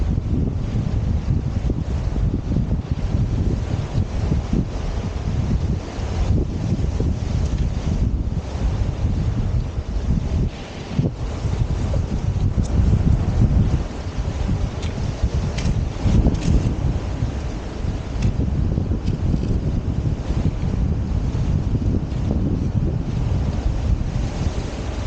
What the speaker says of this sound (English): There's a bit of a breeze now, and it's a northeasterly